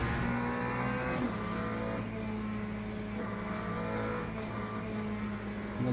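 A hypercar engine in the Le Mans Ultimate racing game, a continuous loud droning race engine note holding a steady pitch with slight revving shifts, with no talking.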